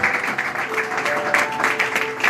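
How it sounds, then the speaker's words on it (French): A church congregation claps loudly in a dense, continuous burst of applause, with scattered cheering voices rising over the clapping. "acclamez très fort pour le Seigneur"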